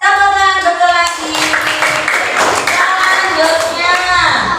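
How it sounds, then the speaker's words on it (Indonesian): Children in a classroom clap together in a burst of applause during a lesson on the meanings of Al-Malik and Al-Aziz, loud and close, while an adult voice and children's chatter run through it. "Tepuk tangan, betul lagi."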